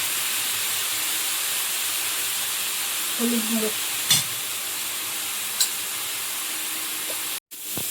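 Spice paste with salt frying in a pan gives a constant close hiss and sizzle, with a couple of faint utensil taps and a brief murmur of voice in the background.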